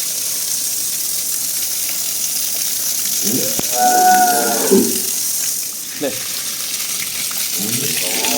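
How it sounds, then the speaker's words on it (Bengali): A Jersey Friesian heifer gives a drawn-out moo in the middle of the recording, followed by shorter, fainter calls, all over steady outdoor background noise. "আমি একটা গরু কিনে নিয়ে আসলাম এই মাত্র এই মাত্র কিনে নিয়ে আসলাম একটা গাব বকনা জার্সি ফ্রিজিয়ান"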